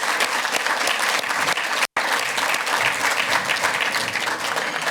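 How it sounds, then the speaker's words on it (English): Workshop attendees give the panelists a round of applause, with continuous, dense clapping from a seated audience and a brief cut in the middle before it resumes at the same level. "please join me in a round of applause for our panelists"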